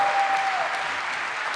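Audience applause fills a podcast studio, a steady dense wash of clapping that holds even for the whole moment with no pauses.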